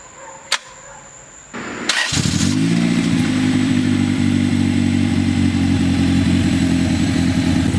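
A Honda B20B car engine with no torque mounts cranks and catches after a click and a brief lull, then settles into a loud, steady, rough idle close by with a deep, throbbing hum.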